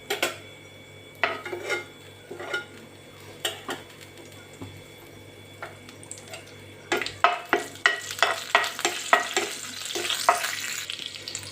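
Garlic fries in oil in a pan, giving a soft steady sizzle broken by sharp utensil scrapes and clinks against the pan. The stirring turns busier and louder in the second half, and no one speaks.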